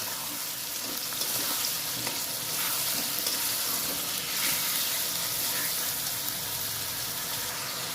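Ginger-garlic spice paste sautéed in a pan, a continuous bright sizzle with scraping stir strokes throughout, close and moderately loud, no talking.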